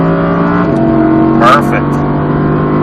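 An Audi R8 on a Las Vegas track accelerates at full throttle, its engine a steady loud drone with a brief rising burst partway through. A voice talks over it close to the microphone.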